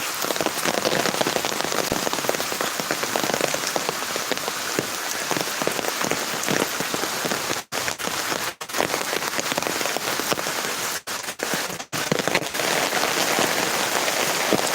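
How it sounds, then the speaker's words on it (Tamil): Heavy rain pours steadily in a dense, constant hiss of drops striking surfaces, loud and close throughout, with a few brief dips in intensity toward the end. "இன்றைக்கி பார்த்தீங்கன்னா ஆறு மணிக்கு முன்னாடி பார்த்தீங்கன்னா பயங்கரமான மழை"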